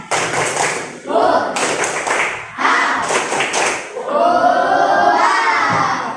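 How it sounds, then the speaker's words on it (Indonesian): A group in a teachers' coaching session does rhythmic 'tepuk semangat' clapping, loud, close, patterned bursts of claps with shouted voices joining, ending in chanting. "Kita semuanya deh, tepuk semangat."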